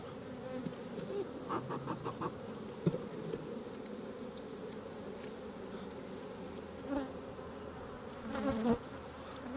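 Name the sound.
honey bees buzzing at an aggressive hive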